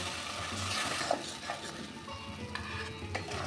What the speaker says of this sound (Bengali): আমি মশলাটাকে আর একটু কষিয়ে নেব